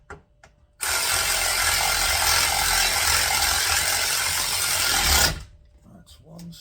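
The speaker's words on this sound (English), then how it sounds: "this is my new favourite tool for being proper lazy," Cordless power ratchet driving a captive bolt on an MGF or Rover Metro coilover job, one loud continuous buzzing run of about four and a half seconds, close up, with quiet clicks before and after.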